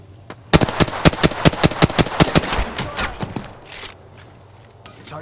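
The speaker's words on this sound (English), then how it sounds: "Listen up, I'm getting shot at." Rapid automatic gunfire in the Apex Legends video game, a loud burst of about a dozen close sharp shots in quick rhythm, then a few fainter scattered shots and rustle.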